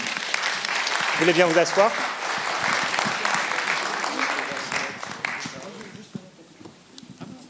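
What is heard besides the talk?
audience applause welcoming comic artists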